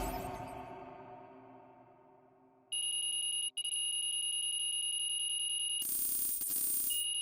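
Final buzzer in the NBA 2K26 basketball video game, a loud, sustained electronic tone that cuts in abruptly after a fading crowd murmur, briefly drops out, then shifts to a harsher, higher blare near the end.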